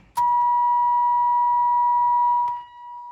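A loud, steady electronic car warning beep sounds continuously for a couple of seconds in an LS-swapped Chevrolet S10 pickup, then cuts off abruptly near the end.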